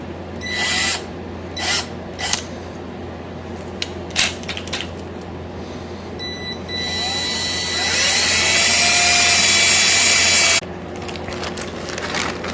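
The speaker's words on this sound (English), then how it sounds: "So good old drill it out and we will replace the screw" Nearby, a power drill whirs in short bursts with clicks and handling noises, then grinds steadily for a few seconds drilling out a stuck screw on a 1971 Yamaha RT1B 360 motorcycle before cutting off.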